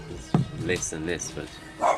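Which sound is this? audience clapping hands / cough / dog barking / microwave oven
dog barking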